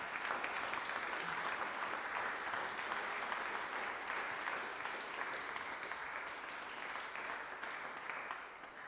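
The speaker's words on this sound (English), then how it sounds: "I'd just like to have a big round of applause for the finalists" Audience at the Scottish Squash Open finals applauds the finalists with steady, dense clapping that lasts about nine seconds and fades slightly at the end.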